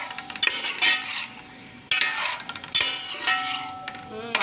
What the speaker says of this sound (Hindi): 5 मिनट हम लोग इस चिकन को भूनते हैं।